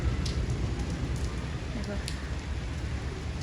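Steady, dense rain patters on surfaces, close and even throughout, with a faint voice speaking briefly over the hiss.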